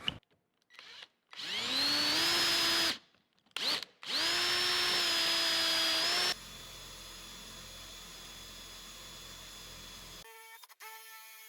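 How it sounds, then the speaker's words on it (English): A power drill spins up in short bursts, drilling holes for a tote storage lift mechanism, its motor whine rising and falling through several starts, then a quieter steady hum follows. "let's go ahead and drill one of these out"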